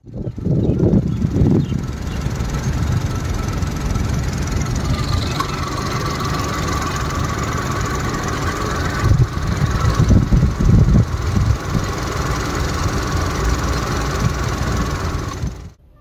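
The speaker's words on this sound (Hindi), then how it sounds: "अब सुनते हैं इसकी इंजन की आवाज।" A Kia Sonet GT Line compact SUV's engine runs with a loud, steady, close rumble throughout, swelling briefly near the start and middle before cutting off at the end.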